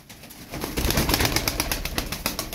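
Tumbler pigeons offered for sale, heard as a dense, continuous flock sound of cooing and fluttering wings, close and fairly steady, with no talk.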